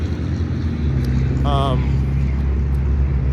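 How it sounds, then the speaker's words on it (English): Steady roar of cars travelling along a nearby highway, with passing traffic rumbling under a voice that talks over it. "you see the cars kind of going by there"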